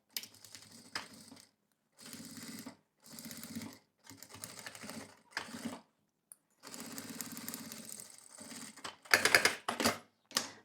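A sewing machine stitches a zipper onto a tricoline fabric pouch in several close, whirring runs of rapid stitching, separated by brief pauses and ending in a quicker, louder burst.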